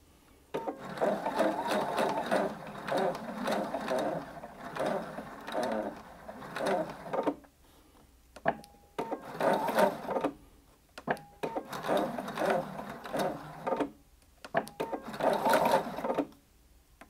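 A sewing machine stitches fabric for a midi skirt, running backward and forward to backstitch near the fabric edge. It whirs close by in several long bursts split by short pauses, with small clicks between runs.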